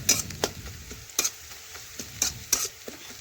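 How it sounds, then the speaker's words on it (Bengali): Finely chopped onion stirred and fried in a pan for a chicken dish, with a steady sizzle punctuated by several sharp scraping stirs of a spatula, close and fairly loud. "এই দেখুন নাড়াচাড়া করে লাল লাল করে একটু ভেজে নেব"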